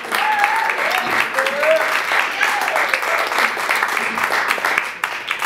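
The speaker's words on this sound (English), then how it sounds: "I do want to give another round of applause to this incredible group up here." An audience applauds a live Latin rumba band in a club, steady dense clapping filling the room from start to end, with a few voices calling out and a faint whistle-like melodic tone drifting over the crowd.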